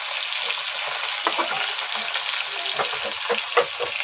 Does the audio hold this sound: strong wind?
no